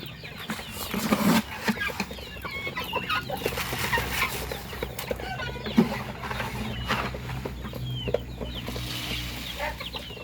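Chickens clucking around a home garden farm, with repeated nearby clucks and rustling over a busy outdoor background, a few louder calls standing out.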